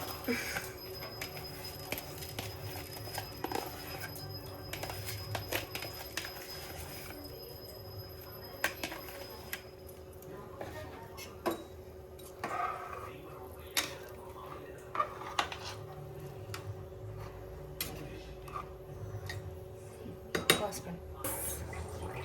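Washed rice tipped into a pot of boiling water for Muslim-style kushka, with scattered clinks and knocks of utensils against the pan over a steady kitchen background, some talk heard faintly.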